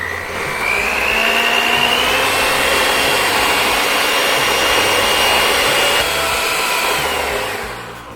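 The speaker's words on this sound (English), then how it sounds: "I'm going to use a hand mixer because we want to increase the volume of the eggs by about double" An electric hand mixer beats eggs in a bowl for a pumpkin roll, giving a loud, steady motor whine that runs unbroken for about seven seconds before it trails off. No one speaks.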